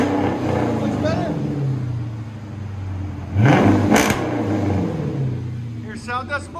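A Dodge Charger R/T Hemi V8 with its resonators and mufflers removed idles with a deep rumble, then revs sharply once near the middle before settling, with voices talking around it.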